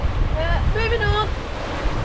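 Wind and waves rush steadily around a sailboat making way in 22 knots of wind off the Scottish coast, a close, constant roar with wind buffeting the microphone and a brief voice partway through.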